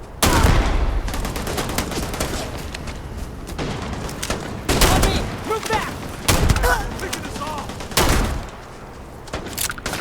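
Rapid bursts of gunfire in the sci-fi shooter game Starfield, loud close volleys and booms repeating in clusters with brief gaps, a voice talking in between.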